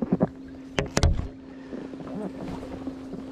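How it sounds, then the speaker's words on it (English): Low engine drone of a passing boat with water lapping, heard while crappie fishing, preceded by a few sharp knocks nearby. "Boat coming by, waves,"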